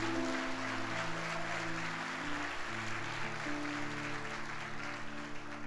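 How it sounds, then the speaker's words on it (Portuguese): Church congregation at a Sunday service applauding, a steady wash of clapping at moderate distance over sustained organ or keyboard chords. "Então dá um aplauso bem forte ao Senhor por isso."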